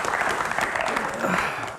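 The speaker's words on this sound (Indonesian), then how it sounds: "tepuk tangan untuk Pak Menteri" Audience applause for a government minister at a televised Q&A event: steady, dense clapping held at an even level for about two seconds, close and full.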